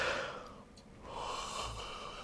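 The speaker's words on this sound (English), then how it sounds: "I do apologise for my yawning." A man yawns close to the microphone while camping, a long drawn breath that fades out and then rises into a second exhale.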